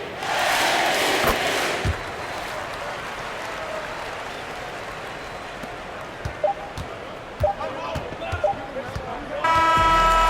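A home crowd in a basketball video game cheers and applauds in a broad, sustained roar that fades to a lower murmur, while a commentator talks over it and a horn sounds near the end.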